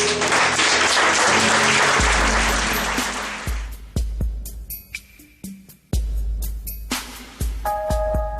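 A church congregation applauding, with dense, loud clapping for a few seconds that thins out and fades, while sustained musical tones take over.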